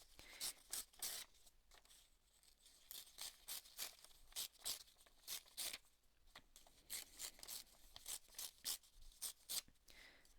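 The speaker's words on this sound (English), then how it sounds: "So I'm just going to tear these down." Scraps of music paper torn apart by hand, a rapid series of crisp ripping bursts in uneven bunches, close and fairly quiet, with no talking.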